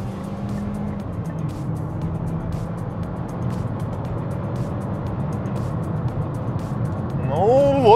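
Changan CS35 Plus 2023 accelerating hard from a standstill, a steady loud engine drone that builds and rises toward the end, heard from inside the car with a driver speaking over it.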